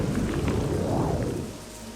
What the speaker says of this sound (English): Shame the sun went in just as I got here, and it started to rain